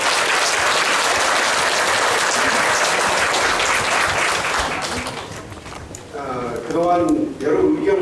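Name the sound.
audience applause at a meeting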